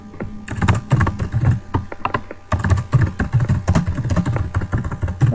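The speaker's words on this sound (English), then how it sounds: "I can put in the card title and then type in a set of notes" Notes being typed on a computer keyboard, a brisk run of close, crisp key clicks in an uneven rhythm with a short pause near the middle, heard alone.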